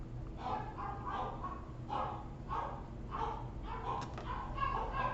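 Dogs bark repeatedly at a distance, a string of faint, evenly spaced yaps over a low background hum, with no talking.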